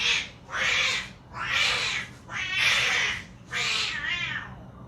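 Cats yowl in mating season, five loud drawn-out wails in a steady rhythm with short pauses between, close by and with no voices over them.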